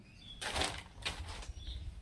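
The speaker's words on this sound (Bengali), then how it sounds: "শালিক পাখি এসছে ঘরের কাছে, খাবার খাবে।" A myna's wings flap in two or three quick bursts near a house, with quiet surroundings between them.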